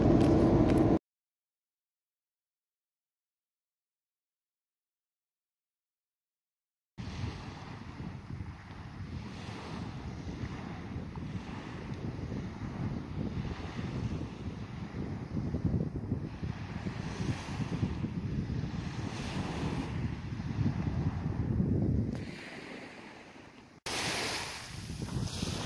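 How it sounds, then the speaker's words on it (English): Wind and surf on a quiet, chilly beach in New Brunswick, a continuous wash of waves with gusts buffeting the microphone, heard after a short silent gap. "A little chilly by the water, but so nice just to walk along the beach where nobody else is."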